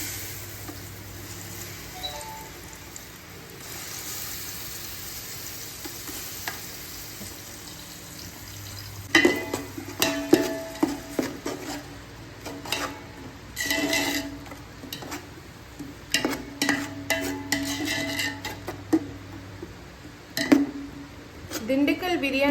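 Ground small-onion shallot paste is added to a seeraga samba chicken biryani pot, with scraping, clattering stirring and frying sizzle building in bursts over the second half while a person talks.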